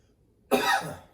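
A single close, sharp cough bursts out after a short silence and trails off quickly.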